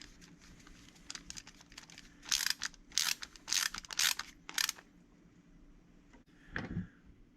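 A ratchet on a long extension tightens a shock on a Traxxas X-Maxx RC truck. Close, crisp clicking comes in several quick bursts, followed by a short whirring sweep near the end, with no talk.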